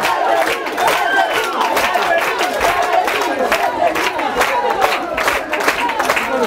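Audience at a seniors' challenge event applauding and cheering, a dense, continuous burst of clapping with shouts from a nearby crowd.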